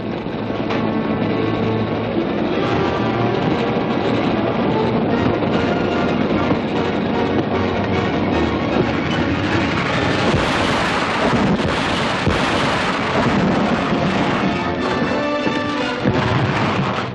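A train running on the tracks toward a derailment in a 1948 Canadian Mounted adventure serial: a loud, dense, unbroken roar and rattle that fills the whole stretch, with no voices over it.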